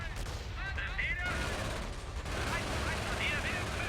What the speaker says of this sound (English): Grease SMG running into close range